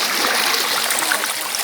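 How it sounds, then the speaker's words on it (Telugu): Rushing water pours steadily at Palacndalu waterfalls, a continuous broadband hiss of flowing water close by with no talk over it. "చూడండి వాటర్ ఎలా ఫ్లోట్ అవుతున్నాయో"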